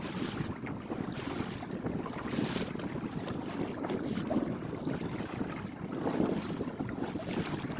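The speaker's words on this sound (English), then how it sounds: "Now the wind's filling in a bit." Steady wind rushes across the microphone aboard a sailboat on open Georgian Bay, with a continuous broadband roar and a faint wash of water along the hull, no voices present.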